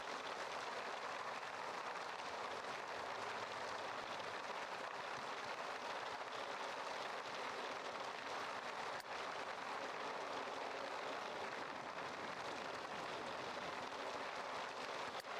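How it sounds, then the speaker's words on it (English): Steady hail falling throughout in The Sims 3, a dense even patter of ice pellets that stays faint and unbroken, with no voices. "It's also hailing, so might not be a great time for outdoor activities."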